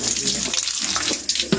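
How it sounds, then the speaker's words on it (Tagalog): A bathroom faucet turned on, its water running in a steady, close hiss throughout with a few small splashes, and no talking. "Buksan mo yung grip."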